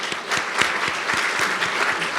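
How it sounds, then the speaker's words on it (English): Audience applause for the panelists at the 2019 NTIA Spectrum Policy Symposium, a steady, dense round of clapping from a mid-sized crowd that holds at an even level throughout. "if we could have a round of applause for the panelists"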